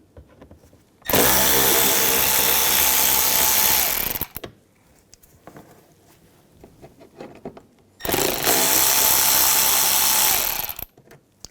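A power tool with a T25 socket drives out inner fender well screws on a 2011-2018 Volkswagen Jetta. It whirs loudly in two bursts of about three seconds each, with quiet handling noise between.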